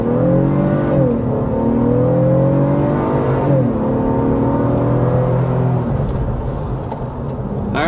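A 2026 Honda Passport with a 2.4-liter turbocharged four-cylinder engine pulls hard from 0 to 50 mph, its loud cabin drone climbing in pitch, dipping briefly at two gear shifts, then rising again.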